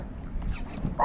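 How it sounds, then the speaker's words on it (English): A dog gives a brief, faint bark or yip at the very end after a moment of low background noise, heard outdoors near a kayak on the water. "What are you barking at?"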